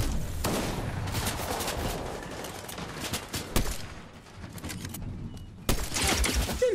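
Rapid bursts of gunfire from a gun in the video game Fortnite, several fast volleys and sharp single shots in a busy, loud stretch with a brief lull before a final burst.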